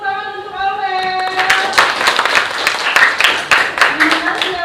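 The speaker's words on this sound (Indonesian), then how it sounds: "Baik, beri tepuk tangan untuk Aurel." Students in a classroom applaud a classmate, a brisk burst of clapping that follows a sustained tone and continues steadily for several seconds.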